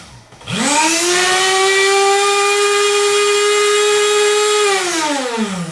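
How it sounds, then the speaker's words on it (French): An electric drill whines steadily at full speed, a high sustained motor tone that spins up quickly and holds loud and close. "Si j'active le bouton 2, la perceuse démarre avec une vitesse maximale."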